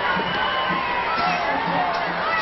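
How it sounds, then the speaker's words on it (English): A crowd cheers in a football stadium during extra time of a 2002 under-19 women's world championship match between the USA and Canada: a steady, broad roar of many voices filling the whole clip. "Big cheer around the stadium again for both sets of girls"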